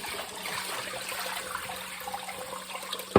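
Water runs steadily into a pot of eggs being cooled, a continuous close splashing trickle with a sharp knock at the end.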